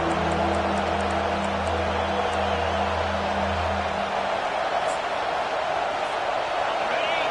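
A college football stadium crowd at a North Texas game roars in a loud, continuous wash of cheering that fills the whole stretch, with a voice talking over it at the start.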